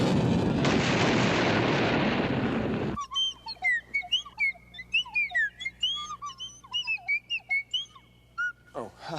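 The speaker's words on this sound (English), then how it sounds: "we would hear it in the form of a loud sonic boom" A loud, roaring blast of noise lasts a couple of seconds and cuts off abruptly, followed by a series of quick whistling chirps.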